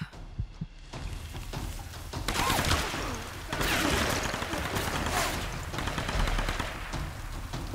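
Explosive gunfire and launcher blasts in the Tomb Raider video game on PS4, a dense, continuous barrage of shots and bursts at fairly loud level with no talk over it.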